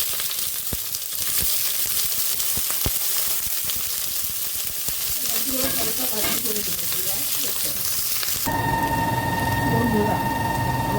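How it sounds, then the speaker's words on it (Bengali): Chopped onion hitting hot oil with garlic already fried red in a pan for a Bengali-style broccoli sabji, giving a steady loud sizzle with occasional stirring scrapes, and a sharper, brighter hiss near the end. "আমি এবার পেঁয়াজ কুচিটা দিয়ে দিচ্ছি"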